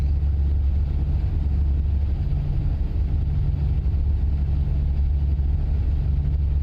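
A heavy truck engine idles and drones steadily in American Truck Simulator, a constant low rumble with no talk.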